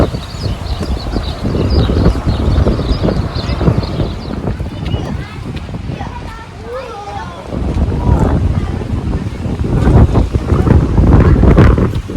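Strong gusty cold wind buffets the microphone in loud, rumbling surges that ease briefly midway, with people talking underneath.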